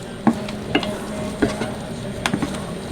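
Sliced mushrooms sizzle and fry in butter in a pan, with a few soft scrapes and knocks of a stirring utensil landing at a slow, uneven pace.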